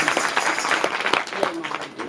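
An audience at a spiritual gathering applauding, a dense patter of many hands clapping, with a voice talking over it.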